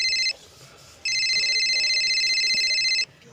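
An iPhone ringtone rings with an incoming call outdoors under a tree: a short burst of bright electronic tones, a brief pause, then a longer sustained ring of about two seconds, fairly loud and close against quiet background noise.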